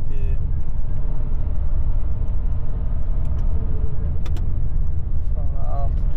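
A car engine in gear rumbles loudly with a low, steady drone, and a few faint clicks and small rattles sound near the end.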